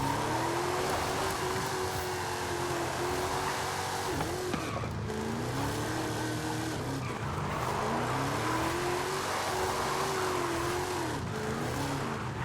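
Drift car in Forza, engine revving up and down repeatedly with wavering pitch over tire squeal and skidding, loud and continuous throughout with no talk.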